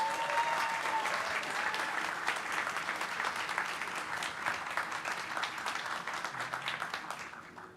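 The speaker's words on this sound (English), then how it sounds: "Please join me in another round of applause for Holcomb Elementary School." An audience at a school board of education meeting gives a sustained round of applause for Holcomb Elementary School, dense clapping continuing evenly for about seven seconds before tapering at the end.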